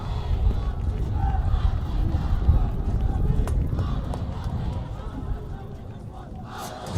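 A student section chants after a girls soccer playoff win, with a loud, dense crowd roar that stays steady throughout and fades slightly toward the end.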